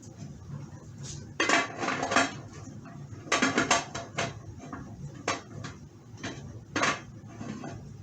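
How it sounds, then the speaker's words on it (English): A metal lid is set onto a large canning pot holding jars of seasoned whole turkey, with repeated clanks and clinks of metal on metal, some sharp and close, spread unevenly across the moment amid quiet kitchen handling. "And we're going to go ahead and put our lid on."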